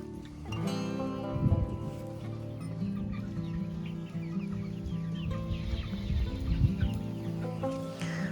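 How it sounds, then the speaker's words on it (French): Faverolles, Padua and Brahma chickens and roosters cluck and murmur close by in a coop, with overlapping soft calls and a few louder squawks, and no talking. "Là, le noir, là, c'est un coq Favrol. Ici, on a une petite poule Padoue. Ici, une poule Brahma."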